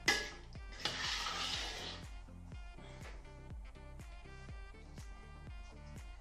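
Sweet cherry zarda rice stirred in a pot over a low flame, a spoon scraping and knocking against the metal in a steady repeated rhythm, quiet and close, with a brief louder rustle near the start and no talking.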